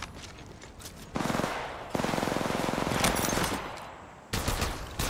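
Rapid automatic gunfire in the mobile shooter Apex Legends Mobile, loud bursts of rattling shots starting and stopping in separate volleys with short gaps of quieter background between them.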